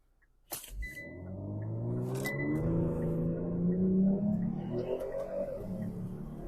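A Kia Stinger GT2 pulls away with a sharp thump, then its engine climbs steadily through the revs in a smooth, moderately loud acceleration with no talking.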